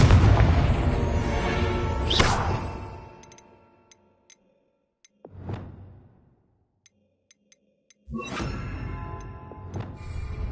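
A Confringo spell blast goes off in Hogwarts Legacy: a loud burst that booms and decays over a couple of seconds, then a smaller thud, sparse ticks, and another heavy rumbling blast.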